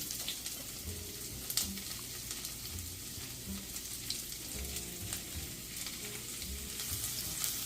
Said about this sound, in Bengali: এখন এই সরিষার তেলের মধ্যে দেব রসুন কুচি